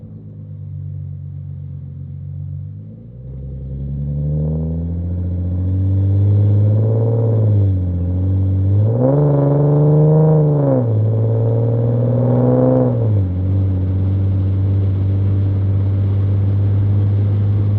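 A car fitted with a Fast Intentions catback exhaust and test pipes drones with a deep, steady bass rumble, swelling and falling as the engine climbs through the revs in repeated rises, heard close and without talk.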